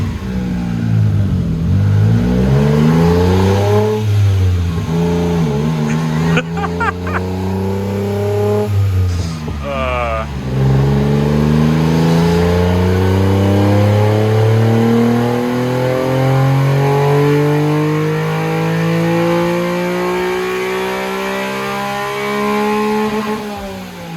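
A roughly 50-horsepower sports car engine revs hard and accelerates, its pitch climbing through the gears with short breaks at each gear change. It stays loud and close throughout, and no one talks.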